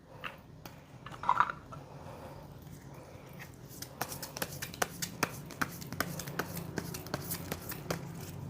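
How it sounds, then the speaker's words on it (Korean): Tarot cards shuffled and drawn from a deck, a run of soft papery riffles and crisp flicking snaps close by, with a few sharper card taps in the later seconds and no talking. "카드 한번 뽑아 볼게요."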